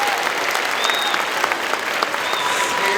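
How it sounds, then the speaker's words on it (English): Audience applause for student soloists at a middle school winter band concert, a loud, dense, steady clapping from a large crowd with faint whoops rising through it. "Give them a round of applause for doing that."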